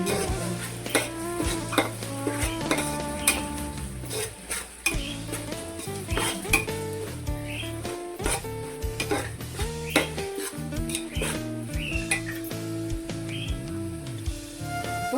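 Chicken biryani masala paste, with garlic paste, stirred and sautéed in a pan, giving steady scraping and clinking of a utensil against the pan over a continuous sizzle, with music playing throughout.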